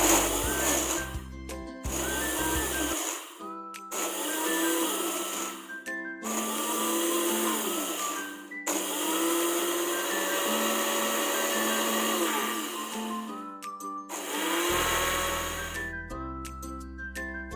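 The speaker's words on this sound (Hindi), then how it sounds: "ग्राइंड करते वक्त हमने ये ध्यान रखना है कि हमने मुसलसल ग्राइंड नहीं करनी।" A kitchen grinder whirs through poppy seeds in a series of short, loud bursts with brief pauses between them, pulsing the seeds into a dry powder for a thandai-style almond drink.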